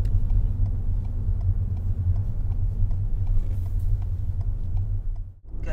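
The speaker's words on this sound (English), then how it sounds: "he does rev the engine quite considerably" Car engine revving and pulling hard while accelerating onto a dual carriageway, a steady loud low rumble with road noise throughout that drops briefly near the end.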